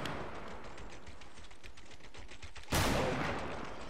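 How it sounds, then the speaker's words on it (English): Rapid gunfire in Fortnite rattles in a steady stream of shots from a moderate distance, then a sudden louder blast of noise breaks in near the end; no one speaks. "Where, who's shooting?"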